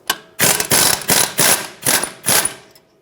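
A ratchet wrench loosens the knuckle bolts on a 2013–2018 Hyundai Santa Fe during front CV axle replacement, six close, loud bursts of rapid clicking in a steady back-and-forth rhythm, with no talking.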